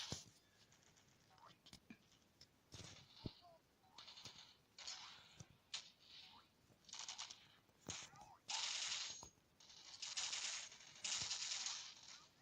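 Pump shotguns fire in a Fortnite-style shooter match, a handful of sharp reports scattered among bursts of other gunfire and game noise, with talk over the top.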